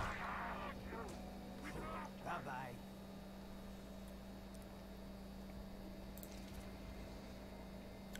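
Ducks in the Mutant Year Zero: Road to Eden game give a few short, quiet quacks in the first seconds. A faint steady electronic hum continues alone afterward.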